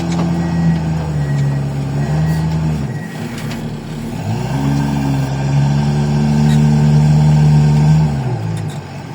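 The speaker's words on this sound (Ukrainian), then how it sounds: "погрузчику шумом, мотор гуде" A steady low loader engine hum drones throughout, rising and falling slightly in pitch nearby, heard through open windows, with a continuous rumble underneath.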